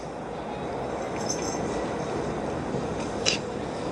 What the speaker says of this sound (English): What are these trains doing?